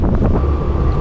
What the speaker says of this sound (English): this is like more wind than predicted, obviously, as per usual